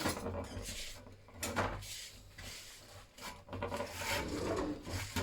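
Hands rubbing fat around the inside and edges of a pie tin, a continuous close scraping and rubbing with uneven strokes.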